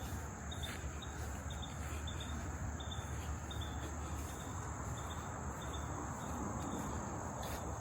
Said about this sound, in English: A lot of mosquitoes, bugs.